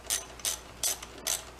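A hand ratchet with a socket and drive clicks in four short, sharp bursts while loosening a hose clamp on an engine air intake at the throttle body, heard close and alone.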